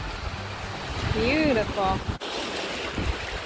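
Waves wash and churn on a clear northern Michigan lake, a steady broad rush blended with heavy wind buffeting, while a person says a single word briefly over it.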